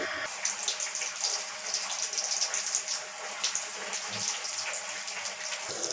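Coconut water pours in a steady splashing trickle close by, a continuous watery gush with light droplet patter, and no voices over it.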